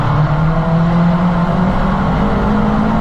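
An 800 hp BMW M5 F10 pulls at full power in third gear on the autobahn, its engine a loud, close, rising drone that climbs steadily in pitch throughout.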